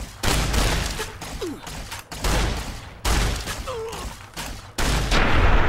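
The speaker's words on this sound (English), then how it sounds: "Shotgun straight to the face!" Repeated loud shotgun blasts from the video game Fallout: New Vegas, four heavy booming shots spaced about a second apart, each with a rumbling tail, mixed with faint game sounds and a brief voice.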